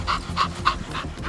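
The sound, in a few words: hunting dog panting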